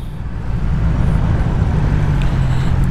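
A BMW S1000R motorcycle cruises on the Autobahn, giving a steady, loud low engine drone with heavy wind rush throughout.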